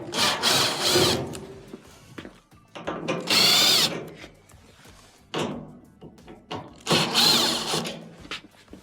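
A power drill backs Phillips screws out of a clothes dryer being repaired for noise, several separate whirring bursts of a second or so each, close and loud, with handling clicks between them.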